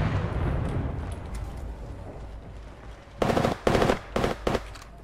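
Apex Legends gunfire rings out in four sharp automatic bursts near the end, loud and close, after a quieter stretch of game ambience.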